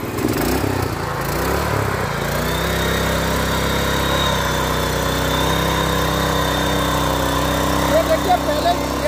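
A 7.5 hp power tiller drives its rotavator in first gear, the engine holding a steady, loud droning hum with a constant tone throughout, with no pauses or breaks.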